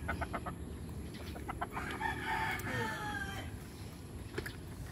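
A rooster, a tandang recently moved to a new coop, crows in a long rising call in the middle of the clip. Short clucks come before and after it, over steady low background noise.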